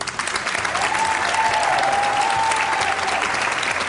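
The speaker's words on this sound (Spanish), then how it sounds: "un aplauso para Jorge." Studio audience applause greeting a guest on an interview show, a continuous, dense clapping that swells and holds steady, with a faint tonal hum running beneath it.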